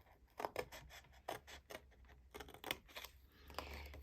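Scissors cut across fabric for cascading pleats in a quiet room, a series of faint, crisp snips in short bursts with brief pauses between.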